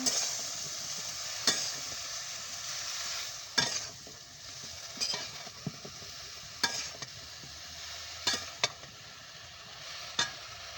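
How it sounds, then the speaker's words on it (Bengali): Water lily stems with small shrimp fry in a pan under a steady low sizzle, repeatedly scraped and tossed by a spoon in short irregular strokes, with no talking. "এই যে শাপলা ভাজা হচ্ছে"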